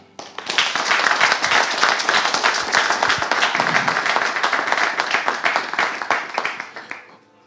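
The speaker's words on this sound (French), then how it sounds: "S'il vous plaît, acclamez encore très fort Odile Tchaou" An audience gives a loud, sustained round of applause for Odile Tchaou, dense rapid clapping rising quickly, holding steady for several seconds, then tapering off at the end.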